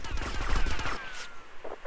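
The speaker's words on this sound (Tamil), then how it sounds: "அந்த கன்னு சுடுற சவுண்டு சூப்பராக இருக்கு" Automatic gunfire from the game GTA Vice City, a dense burst of rapid shots filling the first second, then trailing off into scattered quieter in-game sounds.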